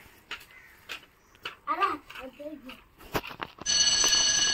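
A school bell rings for the tiffin break, a loud, steady electric ringing that starts partway through and continues to the end, after a stretch of scattered chatter and voices.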